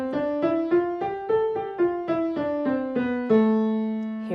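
An A natural minor scale is played note by note on a keyboard-like instrument at a steady moderate pace, each tone clear and sustained, ending on a held final note.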